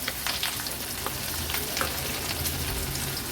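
Chopped onion added to hot oil with bay leaves for a Konkan-style raw jackfruit curry gives a dense, continuous close-up sizzle peppered with fine crackling pops.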